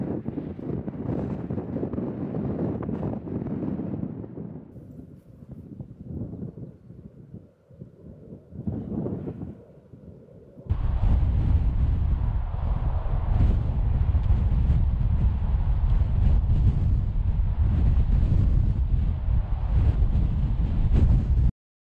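Strong wind on a moorland hilltop at Weston Edge in the South Pennines roars and buffets a microphone. It surges and dips in the first half, then becomes a loud, constant blustery rumble.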